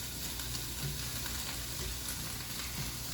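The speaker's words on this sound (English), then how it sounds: "I'm gonna flip my little onions and sausage." Onions and sausage sizzle and fry in a pan as they are flipped, a continuous close crackle and hiss with occasional stirring scrapes.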